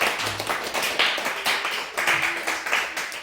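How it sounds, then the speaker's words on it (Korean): A church congregation claps in encouragement during a Sunday service, giving a dense, steady round of applause with no voices, close and moderately loud throughout. "우리 격려의 박수 한번 해주시기 바랍니다"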